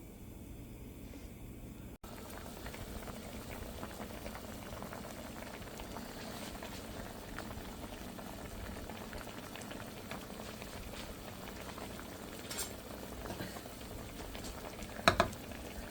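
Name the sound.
hilsa fish curry with pumpkin coming to a boil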